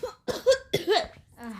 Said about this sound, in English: Just because you're coughing and sneezing doesn't mean you're sick.